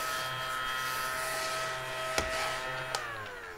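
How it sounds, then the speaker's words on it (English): A small battery-operated mini desk vacuum runs with a steady, high whirring buzz throughout, close and continuous, broken by two sharp clicks or taps near the end. "I can just vacuum them up."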